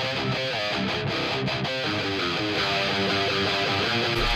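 Two heavily distorted electric guitar tracks play a dense, chugging metal riff together, loud and continuous with brief palm-muted stops, no voices.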